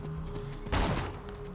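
A single pistol gunshot in the video game Borderlands 2 cracks out once, loud and short, over a low steady game ambience.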